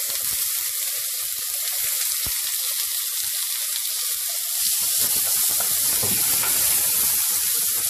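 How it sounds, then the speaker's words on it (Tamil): Chopped onions frying in a pan for mushroom biryani, giving a steady close sizzle that grows louder and busier partway through, with light stirring and no voices. "இப்போ அதில் வந்து ஆனியன் சேர்த்துக்கலாம்."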